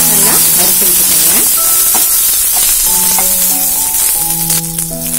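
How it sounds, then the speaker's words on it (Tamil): Garlic cloves, curry leaves and chillies fry in a pan while a chutney is being made, with a loud continuous sizzle and stirring under background music. "பூண்டு ஒரு 5 பல் சேர்த்திக்கலாம், தேவையான அளவு கருவேப்பிலை, காரத்துக்கு தேவையான மிளகாய் சேர்த்துக்கலாம். நல்லா வறுத்து வச்சுக்கோங்க"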